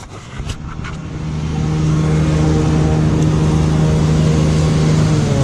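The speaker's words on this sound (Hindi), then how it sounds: "तो ये रहा ZX10R का साउंड था।" A Kawasaki ZX10R sport motorcycle on a Mumbai street with an aftermarket exhaust, loud and close, its engine note climbing into a steady, sustained roar with a strong low growl.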